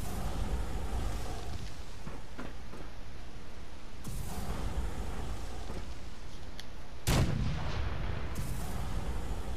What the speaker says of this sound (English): Fire a couple warning shots.